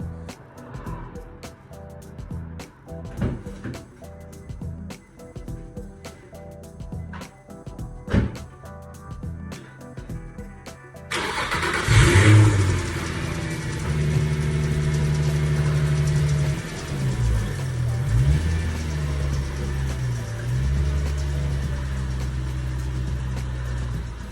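A car is started after a quiet stretch of clicks and small knocks, then idles and revs near the microphone, the engine note rising and dipping steadily while cars are moved before a coilover install on an Acura RSX.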